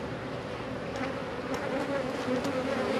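Honey bees buzz steadily around an opened hive during a beekeeping inspection, a dense, continuous drone with no voices.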